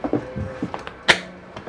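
Kitchen drawers in a 2018 Keystone Montana 3730FL fifth-wheel RV sliding on full-extension glides, a quick run of soft clunks and rolling scrapes ending in one sharp close.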